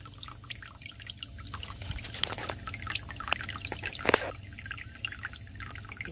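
Water pours and trickles into a DIY automatic dog waterer as it fills, a steady splashing stream with scattered drips and a brief louder gush near the end, close and continuous.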